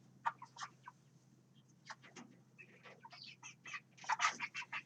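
Young chickens clucking in short scattered bursts, several birds calling near and fairly quiet over a low steady hum, growing busier toward the end with no talking.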